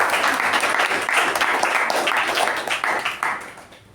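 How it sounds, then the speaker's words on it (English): Loud, dense applause from a meeting audience, a continuous wash of many hands clapping that holds steady before tapering slightly at the close. "So let's give him a big round of applause,"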